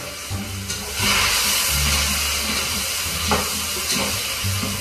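Onion and tomato sautéing in a little oil in a saucepan, a loud close sizzle and hiss running steadily throughout with slight surges.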